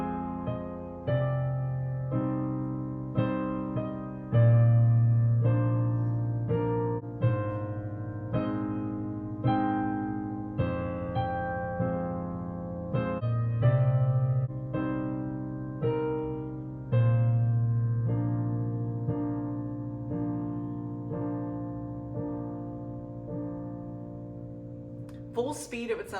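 A piece played slowly on piano with both hands, soft sustained bass notes under a gentle melody of repeated notes at an even, unhurried pace, with no talking.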